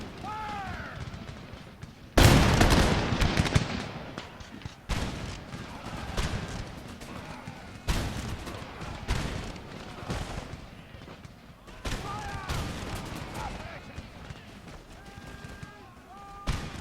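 Musket volley gunfire in the video game Empire Total War: repeated heavy crackling volleys of massed shots burst out every couple of seconds, loud and close, over battlefield din with voices calling out between them.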